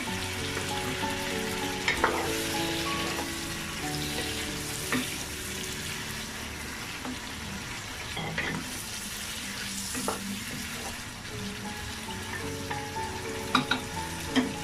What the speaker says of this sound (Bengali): এখন দিয়ে দিচ্ছি মাছের মাথা আর মাছগুলো। একটু ভালো করে নেড়ে দিচ্ছি